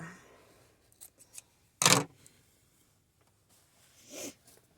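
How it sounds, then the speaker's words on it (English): Scissors snip through sari silk or ribbon while making a boho fairy skirt, with a few small handling clicks before one loud, short cut near the middle and a softer rustling snip toward the end, all quiet and close. "I would take my scissors. I would cut it."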